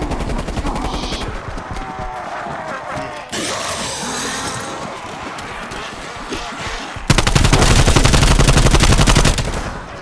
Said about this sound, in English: I gotta get more bullets.